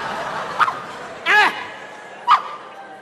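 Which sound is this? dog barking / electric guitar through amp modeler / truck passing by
dog barking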